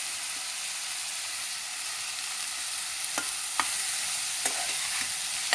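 Chopped vegetables for a mutton dish fry in a pan with a steady, hissing sizzle, broken by a few soft scrapes and taps of stirring, close and without talk.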